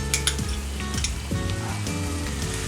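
Mushrooms with garam masala, pepper and tomato sauce frying in a pan for mushroom butter masala, a steady dense sizzle with occasional stirring scrapes, close and continuous.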